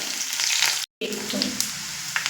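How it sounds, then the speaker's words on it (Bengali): A medium onion and two dried red chillies fry in hot oil in a kadai, giving a steady close sizzle broken by a momentary silent cut, then resuming with light crackles. "তেলে আমি পেঁয়াজ দিয়েছি আর পেঁয়াজটা দু থেকে তিন মিনিট মিডিয়াম ফ্লেমে ভেজে নিয়েছি"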